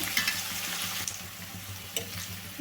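Bitter gourd pieces frying in oil on a medium flame, a soft steady sizzle with a few faint clinks and stirring scrapes, close and alone.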